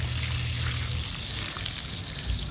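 Cleaning solution drains out of an Opel Vectra C diesel particulate filter in a steady, hissing gush of liquid, constant and fairly close, with a low rumble underneath and no talking.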